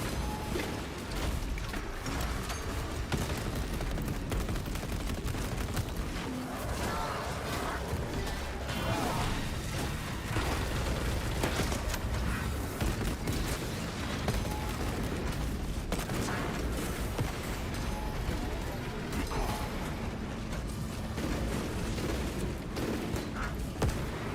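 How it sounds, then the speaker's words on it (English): Grenade blasts and battle chaos in Space Marine, a dense, continuous wall of explosions, gunfire and crashes with no pause, loud and close throughout, with a voice now and then under the din. "My grenades are fucking amazing, by the way."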